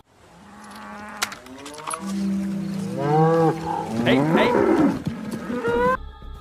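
A cow in a park gives several long, loud, drawn-out moos close by, rising and falling in pitch, with one brief spoken word early on.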